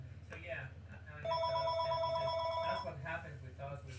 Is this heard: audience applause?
no